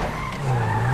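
A car in GTA V skids and spins out during a race, a loud sustained tire squeal with a rising engine tone, close and alone for about a second.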